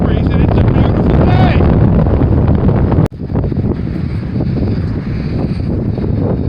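A strong onshore wind from Tropical Storm Jose blows in off the sea at Plum Island beach, loud and roaring as it buffets the microphone, with a brief break near the middle before the rush resumes.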